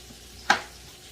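A knife blade strikes a cutting board once as potatoes are thick-chopped for loaded potato soup, a single sharp, close knock in an otherwise quiet kitchen.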